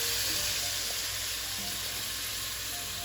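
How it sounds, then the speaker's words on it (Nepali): Tomatoes dropped into spices frying in a pan for a Nepali kubhindo masaura and potato curry give off a steady, even sizzle with faint stirring, continuous and fairly quiet throughout. "अब म यसमा टमाटर राख्दैछु। टमाटर राखेर एकछिन राम्रोसँगले चलाइदिन्छु।"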